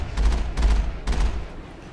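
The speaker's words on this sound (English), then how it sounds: "Here, I'll just fire the cannon at it." Mass Effect M35 Mako tank cannon fire: three loud booming shots about half a second apart, each with a deep thump, over a steady low engine-like rumble.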